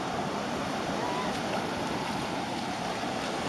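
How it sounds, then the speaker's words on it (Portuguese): Ocean surf at a calm, sandy beach in Mariato, Panama, a steady broadband wash of small waves with wind noise on the microphone, continuous and moderately loud with no distinct breaks. "O mar não tá muito bravio."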